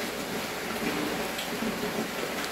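Rain falling on a cloudy evening, a dense, even hiss holding steady and fairly loud throughout with no other sounds breaking through.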